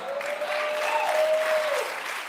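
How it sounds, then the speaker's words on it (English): A studio audience claps and applauds together at a talk show, a steady dense burst of clapping that swells and then fades over a couple of seconds. "Why are you clapping for this ignorant mess right here?"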